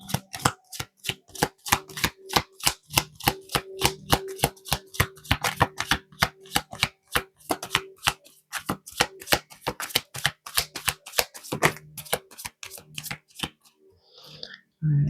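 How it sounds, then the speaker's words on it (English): Tarot cards are shuffled by hand in a rapid, rhythmic run of crisp slaps and riffles, dozens of sharp close taps that continue steadily for about fourteen seconds before a brief pause. "Let's get some cards."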